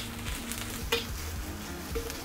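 Ginger and scallions stir-frying in hot oil in a wok over medium heat for braised eggplant, a steady close sizzle with scraping stirs and a brief metallic clink, no voices.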